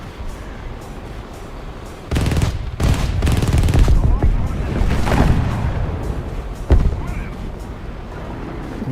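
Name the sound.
aircraft gunfire while strafing in War Thunder video game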